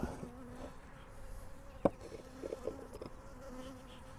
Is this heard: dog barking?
no